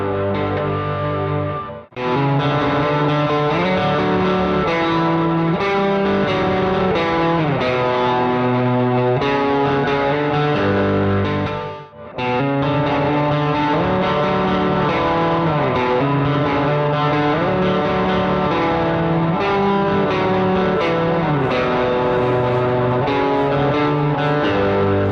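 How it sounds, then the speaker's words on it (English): Distorted electric guitar played through a boost pedal placed after reverb, sustained chords and melodic lines with effects, loud and continuous, with two brief pauses. "Heard the boost after reverb."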